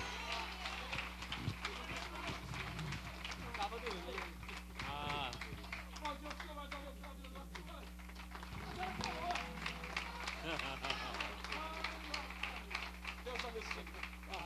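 A church congregation applauds during an evening worship service, dense steady clapping running the whole time, mixed with music and voices.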